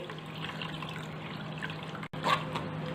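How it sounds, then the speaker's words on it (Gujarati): Water poured into a mixer jar with leftover mint and coriander paste, a steady near trickle and splash running on with a brief pause before a louder pour. "આપણે મિક્સર જારની અંદર બે કપ બીજું પાણી ઉમેરીને લઈ લઈશું"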